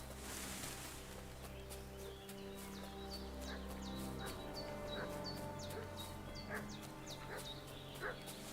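Dog barking repeatedly in Kingdom Come Deliverance 2, a string of sharp yips and barks over a steady outdoor game ambience with faint birds and rustling.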